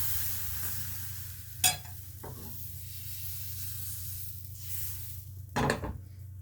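Quiet, even sizzle of gram flour batter cooking in a small pan over medium heat, broken by a couple of sharp metallic clinks of a utensil against it.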